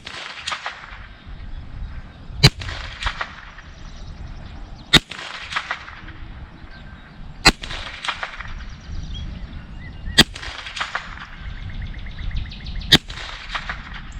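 Bear Creek Arsenal BC-200 lightweight rifle with threaded barrel fired outdoors, five sharp loud shots spaced a few seconds apart, each cracking over faint ambient rustle and birdsong.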